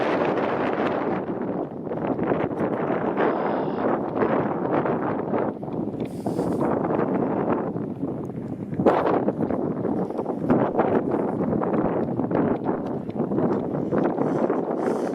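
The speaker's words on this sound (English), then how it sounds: "Now the wind is picking up here." Wind gusts along a waterfront trail in Scarborough, Toronto, rumbling steadily against the microphone throughout with fluctuating intensity and occasional rustling.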